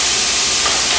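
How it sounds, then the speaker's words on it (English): San Marzano tomatoes hit hot pepper bacon fat, giving a loud, steady, close-up sizzle that holds evenly throughout with no talking. "we're going to add our Marzano tomatoes to that fat"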